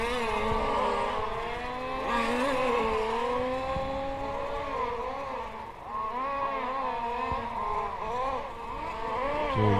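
Race cars circle during a practice session at a Velp race series event, engines droning and shifting pitch as they pass at moderate distance, a continuous layered whine with no talking.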